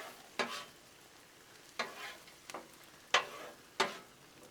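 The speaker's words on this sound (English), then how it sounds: "all I want to do is really kind of heat this rice up" Garlic butter rice warming in a pan, with a few separate bursts of stirring and sizzling spaced a second or so apart over a quiet background hiss.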